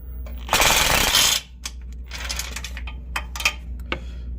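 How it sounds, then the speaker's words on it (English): A ratchet works a radiator bracket bolt loose on a 2017 Jeep Wrangler, a burst of fast clicking followed by scattered metallic ticks and rattles nearby. "And I remove that bolt."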